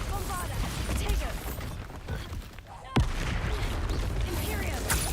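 Spell blasts from the Bombarda, Confringo and Incendio spells in the Hogwarts Legacy video game crackle and burst in dense rolling explosions, with one sharp loud bang midway amid continuous fiery rumble.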